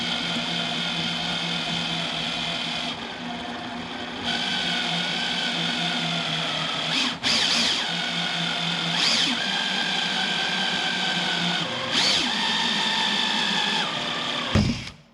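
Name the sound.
power drill drilling car bumper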